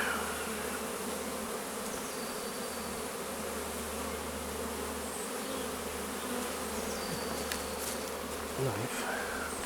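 Honeybees buzzing steadily around an open hive during a colony inspection, a dense continuous drone close by with a low hum underneath and no talk.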